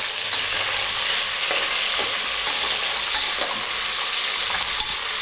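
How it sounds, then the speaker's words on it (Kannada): Onions and fresh curry leaves frying in hot oil, a steady dense sizzle with faint stirring scrapes throughout, close and even, no voices. "ಈಗ ಈರುಳ್ಳಿ ಮತ್ತು ಹಸಿ ಕರ್ಬೇವಿನ ಸೊಪ್ಪು ಹಾಕೋಣ"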